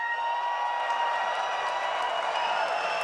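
A large theater audience at the Ubisoft E3 2019 press conference gives sustained cheering and applause, a steady dense roar from a crowd filling the hall without letup.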